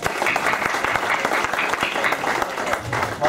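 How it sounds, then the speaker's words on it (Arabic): An audience claps for a young child at an environmental education event, giving loud, close applause with sharp individual claps standing out over a steady crowd patter. "تصفيق يا جماعة"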